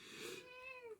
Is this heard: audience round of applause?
no